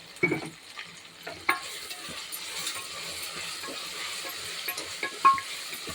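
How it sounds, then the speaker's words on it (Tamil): Vegetables sauté in a pan for coconut milk rice pulao, giving a faint continuous sizzle broken by occasional clinks and scrapes of a stirring spoon. "பாருங்கள், இந்த அளவுக்கு நல்லா வதங்கணும்"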